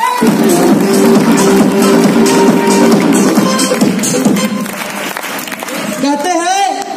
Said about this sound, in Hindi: एक बार अंकल के लिए तालियां हो जाए।